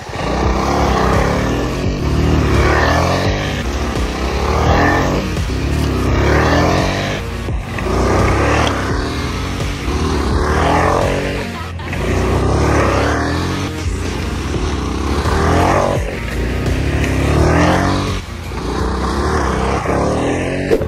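A tractor working a field runs loud and close, its engine droning continuously with surging pulses that rise and fall roughly every couple of seconds.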